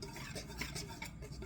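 Whole wheat flour, salt, baking powder and baking soda being stirred together in a bowl, a short soft scraping and rubbing sound close by, with no talking.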